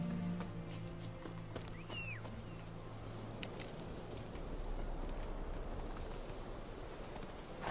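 A horse's hooves clip-clop faintly in The Witcher 3, a soft, quiet patter under a hazy game background with no talk.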